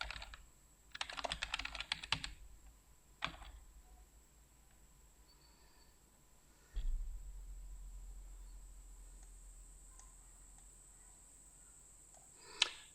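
Computer keyboard typing in short bursts of quick keystrokes with pauses between, near and quiet, alone in a still room.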